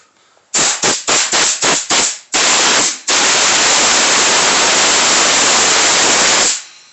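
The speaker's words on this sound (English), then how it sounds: "Blow off all the crud there." Compressed air blows crud off a Craftsman 6.5 Briggs and Stratton push lawn mower: six or seven short, loud hissing bursts, then one long steady blast lasting about four seconds before it cuts off.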